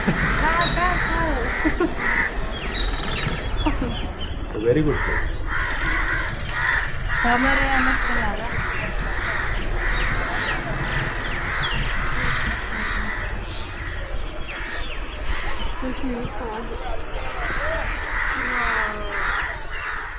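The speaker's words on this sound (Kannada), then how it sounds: "ನೋಡಿ ಎಲ್ಲ ಕಾಗೆಗಳೆಲ್ಲ ಓಡಾಡ್ತಾ ಇದೆ" Crows caw steadily and repeatedly throughout an early morning scene in Wayanad, loud and close, forming a busy chorus while someone talks over them.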